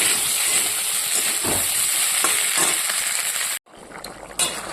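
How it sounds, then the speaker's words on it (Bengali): Water poured into sautéed vegetables in a hot pan sets off a loud, steady steamy sizzle and hiss that cuts off sharply, leaving softer bubbling and a few light clinks. "এবার আমি এতে পরিমাণ মতো জল দিয়ে দেবো"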